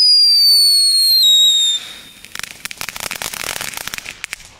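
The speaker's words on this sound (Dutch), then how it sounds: "de fluit wel, maar die knetter valt ook wel mee" Knetterkings firecrackers from Aldi let off outdoors: loud descending whistles first, then a dense run of rapid crackling pops that rattles on for several seconds.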